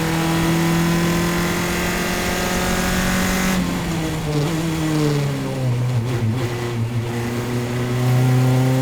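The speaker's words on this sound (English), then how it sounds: "let's try and listen to that engine" A Spec Miata race car engine drones loudly at a steady pitch during a race, then shifts down and climbs again as it revs, with crowd-like background noise.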